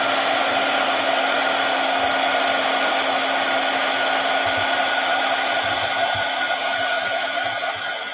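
A hair dryer runs steadily and loudly throughout, blowing air to dry acrylic paint on an upcycled handbag, with a constant motor hum and no talking.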